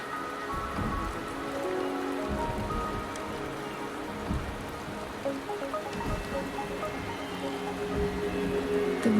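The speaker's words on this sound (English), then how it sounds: "The rain is subsiding, and the sky will soon clear." Steady rain falls in the Huanglong video game, a dense, continuous patter on surfaces that swells slightly louder toward the end, with no voices.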